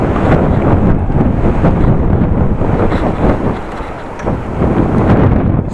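Strong wind roaring and buffeting against the microphone while riding a bicycle headlong into a headwind, loud and continuous throughout with slight swells and dips.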